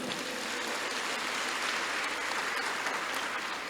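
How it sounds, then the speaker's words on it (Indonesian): Sustained applause from an audience at a graduation ceremony of a health polytechnic, steady dense clapping throughout with no voices over it. "Tepuk tangan buat semuanya."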